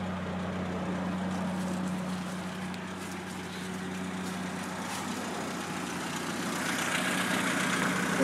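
A car engine idles steadily with an exhaust gas analyzer probe in its tailpipe, giving a close, even low hum that holds throughout with no revving.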